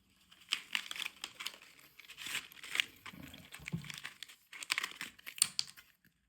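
A plastic packet holding a carp fishing bottom rig is opened by hand: close, quiet crinkling and tearing in short irregular bursts, with brief pauses between them and no talk.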